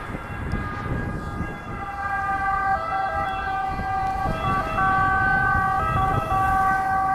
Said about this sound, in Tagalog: Ayan, may dumaang ambulansya.